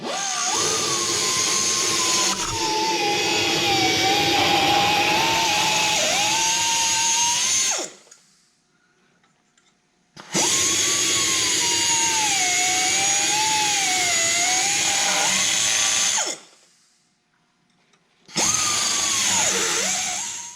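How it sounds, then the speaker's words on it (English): A power cutting tool slices through an exhaust up-pipe bolt on a 6.0 diesel engine, a loud, steady high-pitched whine in three long bursts separated by short pauses, with the pitch wavering as the blade bites. "I'm gonna have to cut this up pipe bolt and cut it right in the middle."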